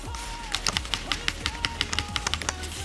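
A Sony DualSense gamepad's triggers click rapidly in a quick irregular series up close, sharp, light and plastic, with a faint hum underneath.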